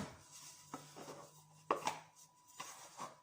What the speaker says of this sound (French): Vous allez la pétrir à la main, comme ça.